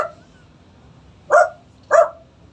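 A dog gives two short, separate barks at moderate distance, with a quiet room background between them and no talking.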